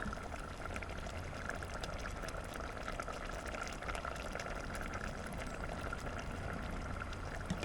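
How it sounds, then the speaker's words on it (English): Cream poured into a simmering pot of mushroom barley soup, a quiet, steady liquid trickle with faint bubbling that runs unbroken throughout. "now I'm going to add my cream"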